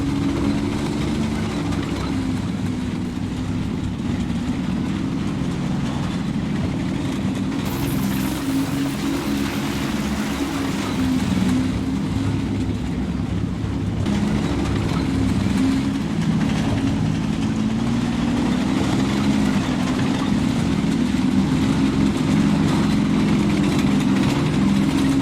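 Stuart light tank engines drone and rumble in the Combat Mission game, a loud steady low mechanical hum with a shift partway through, running alone without talk.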